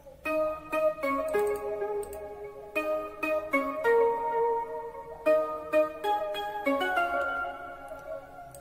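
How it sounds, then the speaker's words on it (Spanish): A newly designed synth chorus melody for a remix plays alone: bright, plucky synth notes in short phrases with clear gaps between them, moderately loud and close, with no voices. "Que es la nueva melodía diseñada."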